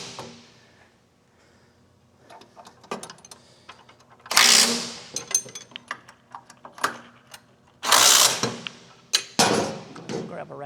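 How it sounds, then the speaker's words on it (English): Ratchet tightening bolts on a CSC trike during exhaust, brake and driveshaft assembly, bursts of rapid clicking alternating with loud rasping sweeps and metallic knocks, close by in a workshop. "I'm just gonna tighten the bolts now."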